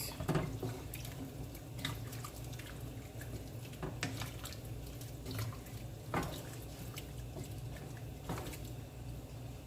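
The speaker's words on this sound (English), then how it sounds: "Also gonna rinse out this cup" Tap water running into a sink to rinse out a cup in a home kitchen, a steady close splashing flow with a few brief knocks and clinks, no talking.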